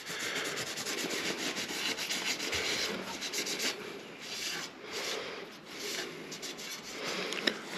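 Kitchen paper rubs over a road bike's hydraulic disc brake rotor in repeated short, scratchy wiping strokes, close and fairly quiet, with no speech.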